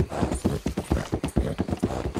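A slightly lame horse in Red Dead Redemption 2 trotting along with steady, close clip-clop hoofbeats in a quick regular rhythm, loud and mostly alone.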